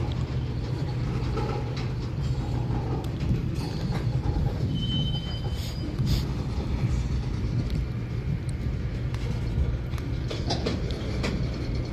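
A slow freight train rolls steadily past, pulled uphill by two locomotives, with a continuous low rumble, rail clatter and occasional wheel squeals.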